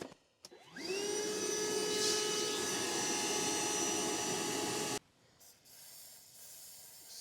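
A shop vacuum whines up to speed and runs loud and steady for about four seconds, then cuts off abruptly, leaving quiet, during an engine drain plug repair.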